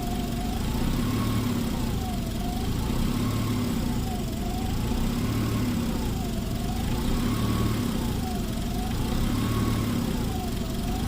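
A 2004 Mitsubishi Eclipse 3.0L engine idles with a steady rumble while its pitch rises and falls in a slow, regular surge about every two seconds, heard close up without talking.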